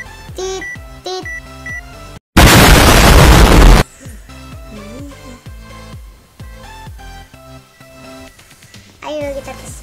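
A bomb goes off in the Roblox game Destruction Simulator: one loud, sustained roaring blast of about a second and a half that cuts through bright electronic beeps and game music playing before and after it.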